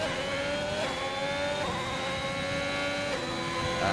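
F1 race cars in the F1 2021 video game lap the Portugal circuit, a steady high-pitched engine whine holding continuous with small pitch dips at gear shifts, no voices over it.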